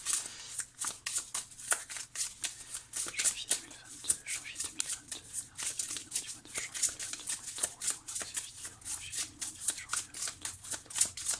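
Tarot cards shuffled and handled in rapid, crisp riffling flicks and slaps that run through the whole stretch at close range. A faint low hum sits underneath, and there is no talk.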